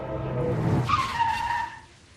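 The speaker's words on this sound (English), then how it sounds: "I think we just got hit by a car." A car strikes the player in a video game, with a loud tire skid and screech that sweeps upward and fades over about two seconds, no talking.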